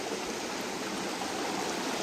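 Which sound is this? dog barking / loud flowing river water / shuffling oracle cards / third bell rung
loud flowing river water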